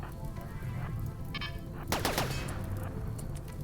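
A burst of rapid gunfire in RimWorld cracks out over a steady hum of game sounds, with a brief metallic clatter just before it.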